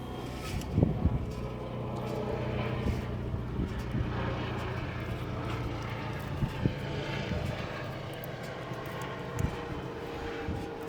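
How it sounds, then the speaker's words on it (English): A helicopter passes overhead during work on a Corvette L98 TBI engine, with its low engine drone and rotor rumble holding steady in the distance beneath sporadic clanks and knocks nearby. "Come on, helicopter."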